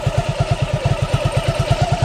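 An old engine idles steadily, putting out a fast, even chugging pulse of regular low thumps that stays loud and close and does not stop.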